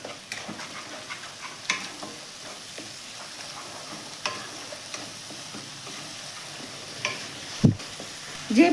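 Poppy seed spice mixture with sugar and chili powder being stirred in a pan, soft scraping and faint sizzling throughout with occasional sharper taps of the spoon against the pan.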